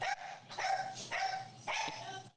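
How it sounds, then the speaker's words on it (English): A dog barks indoors in three quick, fairly loud bursts, each with a short yelping edge, and no other sound around them. "I'm sorry about my dog."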